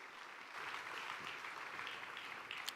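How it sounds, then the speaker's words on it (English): Steady applause from a standing crowd at a formal ceremony, a dense wash of clapping that holds at an even level for a few seconds with no voices. "A round of applause, please,"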